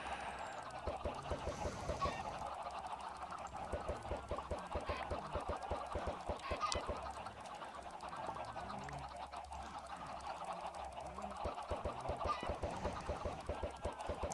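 A dense crowd of Minecraft chickens makes a continuous rapid chatter of overlapping clucks and flapping clicks, steady and moderately loud for the whole stretch.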